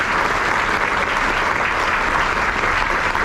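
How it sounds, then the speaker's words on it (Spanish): Steady, dense applause from a ceremony audience fills the whole stretch at full loudness, with many hands clapping together and no break or voice standing out. "pedir un aplauso para Quimacul y las emprendedoras"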